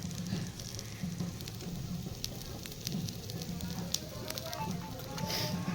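Butter melting over a low flame for fried chicken, giving a steady soft sizzle and crackle with faint pulsing low hum from the fire throughout, no speech over it.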